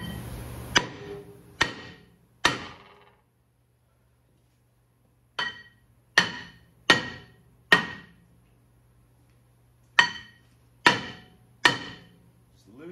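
A hammer strikes a rusty rear brake rotor on a 2007-2017 Ford F-150, Expedition or Lincoln Navigator between the wheel studs, ten sharp metallic bangs in three bursts with brief ringing and silent pauses between groups.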